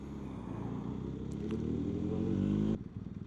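A motorcycle without indicators or brake lights passes along a road, its engine note swelling steadily louder as it nears, then cutting off abruptly near the end.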